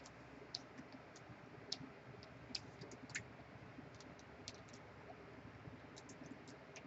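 Faint, sparse mouse clicks at a computer during 3D sculpting work, light irregular ticks over a quiet background hum.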